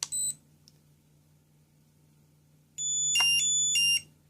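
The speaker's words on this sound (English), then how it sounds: "Let go when you hear the beeps" Venom Pro Quad Micro 1S charger emitting a short beep, then after a pause a louder series of rapid electronic beeps in a repeating pattern, close and clear over a faint steady hum.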